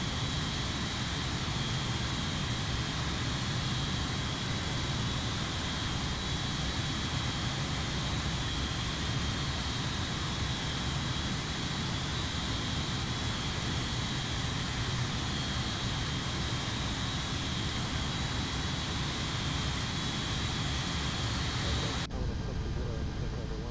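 Airbus A330 jet engines run at a steady idle in the X-Plane 11 flight simulator, a constant broad roar with a thin high whine that cuts off sharply just before the end, and a voice talking over it.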